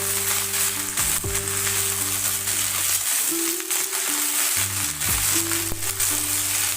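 Sliced hyacinth beans with onion greens sizzle on high flame in a wok, a continuous close frying hiss broken by sharp stirring knocks and a brief quieter dip midway.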